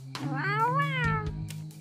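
Cartoon cats meow in a drawn-out, rising and falling cry over a low steady hum, close and clear, ending with a few short chirpy sounds.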